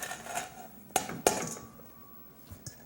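Anasazi beans drop into a cooking pot with two sharp, clattering hits a moment apart, followed by a ringing metallic tone and a few softer knocks. Nobody talks.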